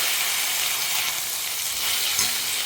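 Onion, tomato, garlic and grated coconut sautéing in a pan, a steady close hiss of frying with faint stirring scrapes, continuous throughout.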